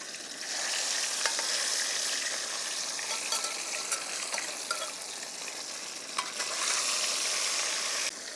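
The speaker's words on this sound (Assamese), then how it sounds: "তেল পূৰা গৰম হৈ গৈছে, পূৰা ধোঁৱা উলি আছে। এতিয়া আমি মাছ এক পিচকৈ দি পেলাই" Pieces of catla fish sizzle steadily in smoking-hot oil outdoors, a continuous loud frying hiss with faint stirring clicks and no voices.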